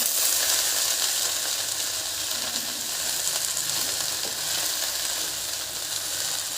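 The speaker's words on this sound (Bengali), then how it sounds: "রসুনটা আমার ভেজে নেওয়া হয়ে গেছে এবার আমি শাকটা দিয়ে দেব" Water spinach greens sizzle loudly as they hit hot oil with fried garlic in a pan, a steady dense crackle and hiss that fills the clip with no talk.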